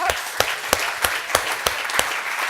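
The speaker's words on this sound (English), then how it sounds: "let's have a round of applause for our inputs" Audience applause at a debate: a brief round of spaced, distinct claps in a steady rhythm, fairly close and alone without talk.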